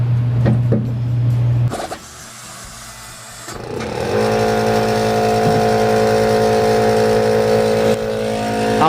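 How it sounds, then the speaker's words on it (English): An air compressor in a garage, used during rear shock replacement on a 1995-99 Chevy Silverado, rattles briefly, falls quiet, then starts up and runs with a steady, fairly loud motor hum. "I'll wait for the compressor to cool off"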